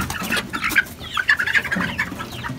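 Chickens in a backyard pen cluck and squawk continuously at close range, several birds overlapping in a busy, irregular chatter.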